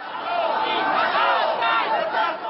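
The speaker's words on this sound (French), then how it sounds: "C'est une arrivée en gare de Marseille sous les huées." A crowd of about fifty protesting CGT rail workers boos and shouts at Marseille train station, a dense, sustained wall of jeering voices at close range.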